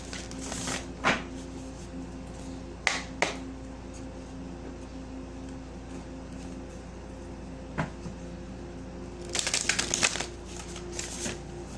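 Tarot cards are shuffled in quiet, scattered riffles and soft slaps, with a longer flurry of crisp card noise near the end over a faint steady background hum.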